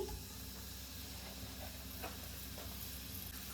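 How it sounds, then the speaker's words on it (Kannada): Finely chopped onion fries in about two tablespoons of hot oil in a pan, a steady, soft sizzle and hiss running evenly throughout with no speech. "ಆನಿಯನ್ ಹಾಕಿ ನೀಟಾಗಿ ಫ್ರೈ ಮಾಡ್ಕೊಳ್ಳಿ"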